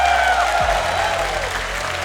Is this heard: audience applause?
yes